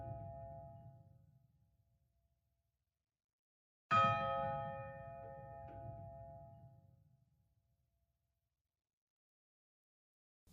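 A victory bell at a high school, rung after team wins, gives a loud clanging strike with a long ringing decay, following the fading tail of an earlier ring, with no talking.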